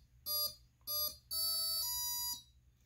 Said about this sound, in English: when I plug in the power supply, you'll see the servo tester goes through a bit of a boot up sequence